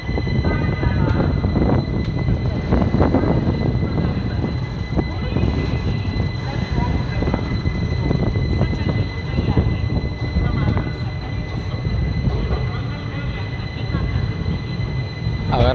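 The Pune–Amravati Express (11405) rolls on after leaving Parbhani Junction, heard from aboard an ICF first-class coach: continuous rumble and clatter of the wheels, with a steady hum and someone talking over it.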